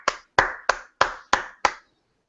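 Six sharp hand claps ring out at an even, slightly quickening pace, close and crisp, each ending in a short decay before silence.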